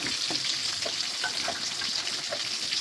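Curry leaves and peeled garlic crackle and sizzle in hot oil alongside dried red chillies for a South Indian vatha kuzhambu, with a steady bright hiss and a few soft stirring scrapes, close and continuous without any talk.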